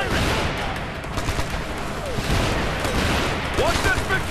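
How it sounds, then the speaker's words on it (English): Sustained heavy gunfire from the Warhound weapon in Ghost Recon: Future Soldier, a dense, loud barrage with booming bursts filling the scene. "Warhound, fire it!"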